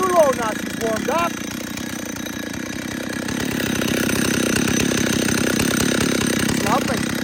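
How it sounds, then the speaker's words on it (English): A warmed-up chainsaw idles low and steady at close range, its rough mechanical drone continuing throughout while a voice talks over it. "now you hear the saw? Nice low idle, maybe a tad too low now she's warmed up."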